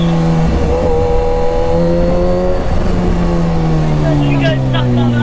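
Big bike motorcycle riding steadily at around 60–65 km/h, the engine droning loud and close with a gradually shifting pitch, wind noise throughout, and a voice briefly heard near the end.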